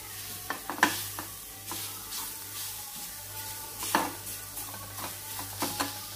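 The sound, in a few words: two ingredients frying together in a pan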